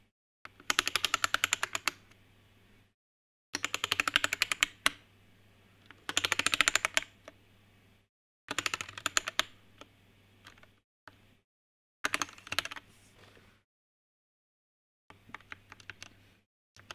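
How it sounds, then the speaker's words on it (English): Bursts of typing on a lubed Vortex VX5 mechanical keyboard, close and clear, with rapid key clacks in several separate runs of a second or two, split by short silent pauses. "For now, we must do keyboard tester. We must make sure all this thingy works."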